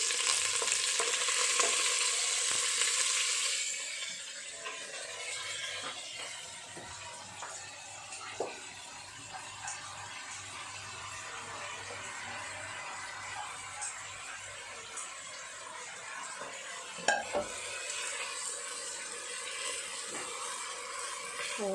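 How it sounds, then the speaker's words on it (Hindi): Washed rice with salt, tossed into a cumin tempering, fries and is stirred in a pan over high heat: a strong, steady sizzle, brightest at first, with soft scraping and stirring noises and no talking. "तो यहाँ पर मैं थोड़ा सा आँच को तेज़ करके चावल को फ्राई कर लेती हूँ।"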